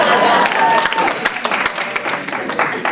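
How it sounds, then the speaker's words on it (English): College stand-up comedy crowd at Iona College breaking into loud applause and cheers, a full burst of clapping that gradually thins toward the end, with scattered voices in the mix. "You guys should cheer for IONA."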